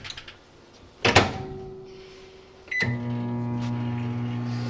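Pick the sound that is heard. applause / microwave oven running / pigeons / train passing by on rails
microwave oven running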